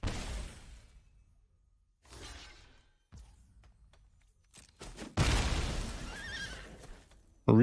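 A horse neighs as a digital card-game sound effect in Magic: The Gathering, a bright whinny that follows scattered shattering hits and whooshes, loud and alone.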